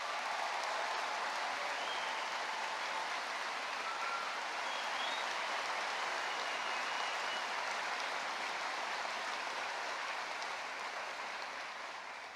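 A large graduation audience applauds mature students with steady, dense clapping that holds evenly throughout and fades slightly at the end.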